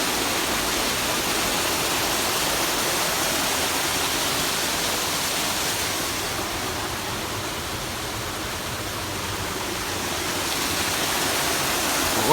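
A fast, flash-flooded stream along a trail rushes past in a loud, steady broadband roar that hardly varies for the whole stretch, and no voices are heard.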